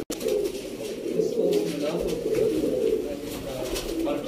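Sialkoti pigeons coo continuously in low, throaty, overlapping murmurs, close by and steady throughout the few seconds, with no talk over them.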